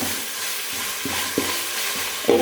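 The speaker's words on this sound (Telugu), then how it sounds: "అల్లం వెల్లుల్లి పేస్ట్ పచ్చివాసన పోయేంత వరకు వేయించుకుందామండి" Ginger garlic paste sizzling in a hot pan while a spoon stirs it, a steady frying hiss broken by several soft scraping strokes and a louder clank at the end.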